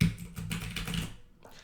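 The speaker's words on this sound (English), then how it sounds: "Oh god, that keyboard was loud." Rapid clattering of a computer keyboard being typed on hard and loud, a dense run of key clicks that trails off near the end.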